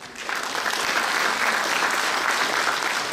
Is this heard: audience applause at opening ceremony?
yes